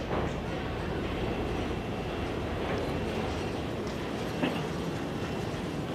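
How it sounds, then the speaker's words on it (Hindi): A railway engine on Indian Railways slowly reversing to couple with a train, giving a steady broadband rumble throughout with a faint clank near the end and no talk. "तो अब धीरे धीरे पीछे हो रहा है रेलवे इंजन"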